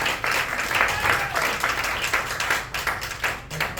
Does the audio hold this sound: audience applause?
yes